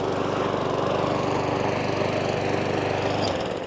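A self-propelled lawn mower, just fitted with a new drive cable, runs steadily and loud up close with a constant engine drone, which drops off sharply near the end.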